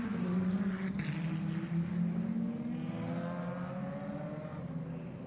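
Lotus Cup race cars at Zolder pulling away on the formation lap, a loud engine drone with rising and falling pitch that slowly fades as the pack moves off, no talk.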